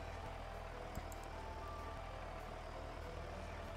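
A tractor engine in the Stardew Valley farming game rumbles low and steady, a continuous droning motor hum with faint intermittent beeps, no talking.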